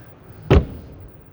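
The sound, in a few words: Weinsberg CUV motorhome wardrobe door closing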